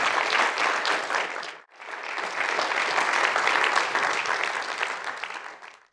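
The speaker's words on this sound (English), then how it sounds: "Big round of applause." Audience applause after a lecture fills the hall, dense and sustained, with a brief pause before swelling again and then fading.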